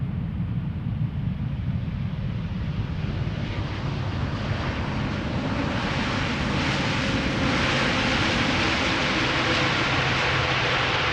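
Boeing 787 Dreamliner, nine years old, arriving at Amsterdam Schiphol: a steady broadband jet roar heard from a distance, building gradually across the clip, with wind buffeting the microphone and no talk.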